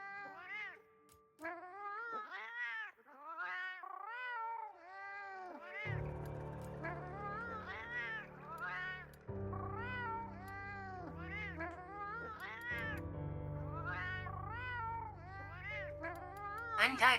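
High-pitched cat meowing from a character in the video game Girls' Frontline 2, a string of repeated meows and short mewls in quick succession, clear and close, over steady game background music.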